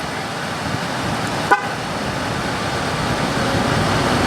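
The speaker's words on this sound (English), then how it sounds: "Now we're getting a chirp, and then a few seconds later a chirp." A single short, high chirp from a 2016 Dodge Ram Limited while its air suspension is being used, sounding briefly over a steady engine idle.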